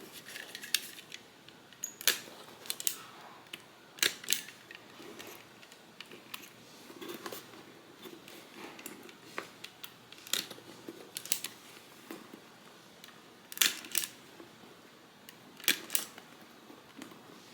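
A stapler punches through layered bag fabric pieces in a series of sharp, quiet clicks and snaps, spaced irregularly, close up with soft rustling in between and no talking.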